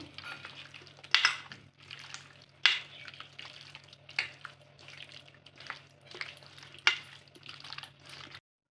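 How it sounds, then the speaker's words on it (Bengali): Potatoes frying in a pan for a chicken kosha make a steady close sizzle, with occasional sharp clinks and scrapes of a utensil against the pan throughout. "ততক্ষণে আমি আলুগুলো ভেজে নেব"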